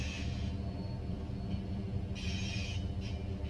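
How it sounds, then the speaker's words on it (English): A BNSF freight train led by three locomotives with open-top coil cars rolling past, a low continuous rumble with faint higher squeals, distant and quiet. "So a trio of BNSF units leading, and we got some open top coil cars in the lead here, or head out anyway on the train."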